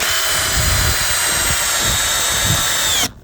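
A cordless screwdriver whines hard and steadily as it drives a screw into the end grain of acacia wood, loud and close, then stops abruptly near the end.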